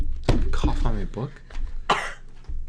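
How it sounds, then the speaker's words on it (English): A sharp cough bursts out amid casual talk, with another short cough-like burst shortly after; voices speak before and around it. "Cough on my book?"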